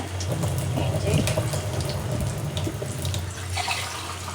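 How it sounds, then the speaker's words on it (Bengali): Water is poured into a pot of cooking lentils, making a steady, close splashing and trickling sound that lasts the whole stretch with no talk. "আর ডালের মধ্যে আরেকটু পানি অ্যাড করবো এখানে।"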